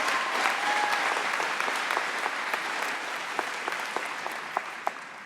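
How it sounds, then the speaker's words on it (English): Audience applause for the counselors at a joint Boys State and Girls State convocation, a steady dense clapping crowd throughout, with a few sharper individual claps standing out toward the end. "let's have a round of applause for our counselors who spent many hours to put this together."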